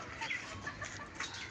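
Chicks and a rooster kept together cluck and chirp close by, with a rapid series of short, bright calls repeating through the moment over a low, busy background.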